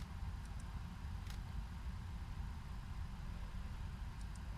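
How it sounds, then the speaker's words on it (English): An airliner's auxiliary power unit runs steadily in the X-Plane 11 flight simulator on a Boeing 767 freighter, a constant low rumbling drone with faint high ticks. "It's the APU on the pack that we can hear now."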